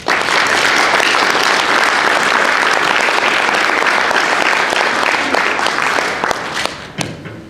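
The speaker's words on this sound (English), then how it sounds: "I'd like to bring him in with a round of applause, Joshua Charles." Loud, dense applause from a Tea Party gathering audience welcoming an author to the stage, sustained for about six seconds before tapering off near the end.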